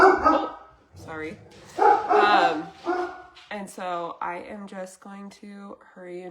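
Dog barking indoors in short repeated yips and barks, close and fairly loud, mixed with someone talking over it.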